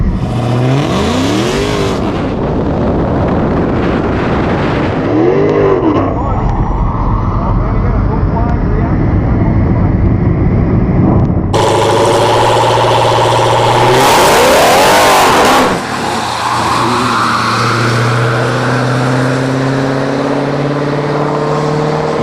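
A Tesla Plaid and a 972-horsepower Redeye Charger launch in a drag race, engines roaring and revving hard with rising whine and a sharp surge midway, loud and close, with a voice talking over it.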